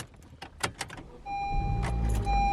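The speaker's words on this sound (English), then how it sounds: "And just like so, your car will turn on." A 2020 Honda Civic LX with a 2.0 engine is started with a key: a few quiet clicks and rattles, then the engine catches into a steady low idle with a thin chime tone running over it.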